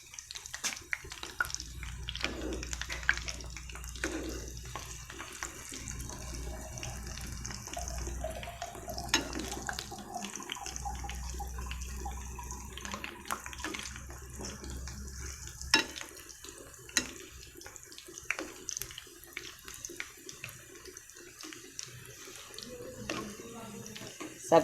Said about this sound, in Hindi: ये मेरे पकोड़े फ्राई हो रहे हैं